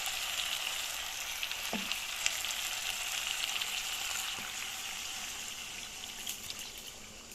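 Liquid poured onto chicken frying in a pan: a broad, steady sizzle and hiss, close and even, with a couple of small clicks from the utensils, fading slightly toward the end.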